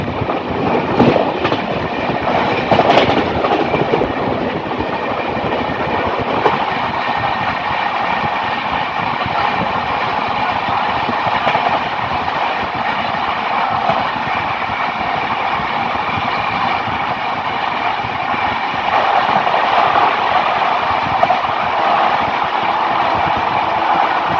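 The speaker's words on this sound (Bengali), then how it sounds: "তা এখন আমরা ট্রেনে আছি।" The Howrah-Lalkuan Weekly SF Express (12353) running, with a loud, steady rumble of the rail carriages and faint rhythmic clatter of wheels on track, heard from inside the coach for the whole stretch with no talk.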